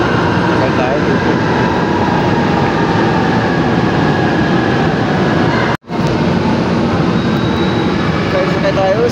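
MRT metro train in Manila, a loud continuous rumble and roar of the carriage in motion with a brief dropout partway through, steady throughout with faint high tones above.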